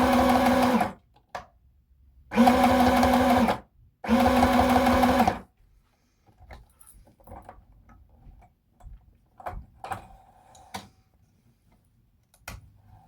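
A sewing machine runs three loud, steady bursts of stitching while basting a red cotton skirt, each lasting about a second, followed by quieter clicks and fabric handling noises.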